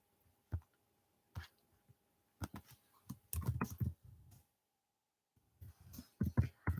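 Someone types a poll question on a computer keyboard, giving quiet, sparse bursts of key clicks separated by pauses, with a faster cluster of taps in the middle and near the end.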